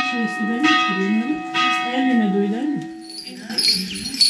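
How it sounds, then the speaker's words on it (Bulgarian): A cracked church bell, kept as a relic in a village bell tower in Gabrene during a St. Theodore's Day gathering, sounds with a sustained, humming ring under steady nearby talking. "Тази камбана се намира в камбанарията като реликва"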